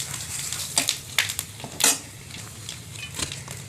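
Dried red chillies, bay leaves and five-spice seeds sizzle and crackle in hot oil in a kitchen pan. Sharp pops and spits break through a steady frying hiss over a few seconds, with no talking.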